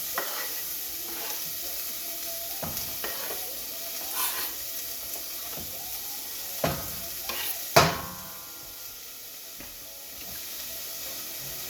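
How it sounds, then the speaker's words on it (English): Onions sizzling in a pan while cheeseburger soup is cooked, a steady hiss of frying under several sharp clinks and scrapes of a utensil against the pan, with one louder knock near the end. "Listen to them sizzles."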